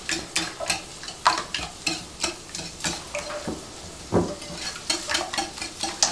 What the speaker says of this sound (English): I'm whisking.